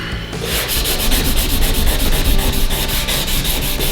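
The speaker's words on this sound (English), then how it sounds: "it's just sanding, and you want the grain to go nice and even all the way across the blade" Steady, loud abrasive rasping of sanding a titanium knife blade, with rhythmic back-and-forth strokes continuing throughout, no voices.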